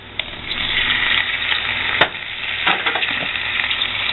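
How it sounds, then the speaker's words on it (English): Home-canned, already-cooked garden potatoes fry in a pan, a steady close sizzle with scraping stirs and a sharp clack near the two-second mark, no talking. "So all I have to do is sort of just get them in the pan, mix them about."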